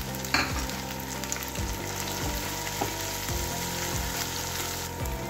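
Ginger, garlic and green chilli paste fry in a pan with a loud, continuous close sizzle, broken by several scraping stirs at irregular intervals.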